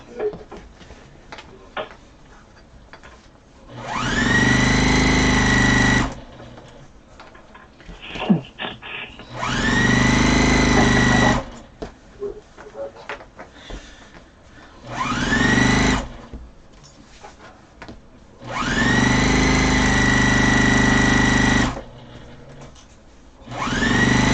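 A sewing machine runs in four separate bursts while stitching along the edge of a pillowcase, each a steady whirring hum of a few seconds with quiet handling and fabric shuffling in the pauses.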